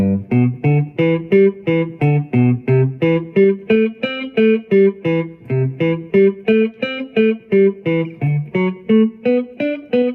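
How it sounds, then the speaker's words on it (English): Electric guitar riffs through a blues pattern in a straight, driving rhythm, each note struck once in steady repeated phrases, loud and close with no talking. "we'll be doing it with a more straightforward driving rhythm and only playing each note of the pattern once."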